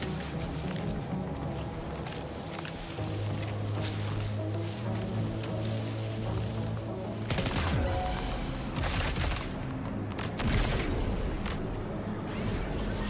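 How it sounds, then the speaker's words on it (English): Assault rifle gunfire in Death Stranding 2, a steady clatter of shots over a busy game soundtrack with a sustained low drone, growing denser and louder in the second half. "I think I'll just go ahead and use the assault rifle for last few"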